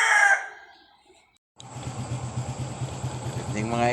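A voice speaks briefly, then after a moment of silence a farmyard of chickens clucks and a rooster begins to crow near the end, over a steady low engine hum.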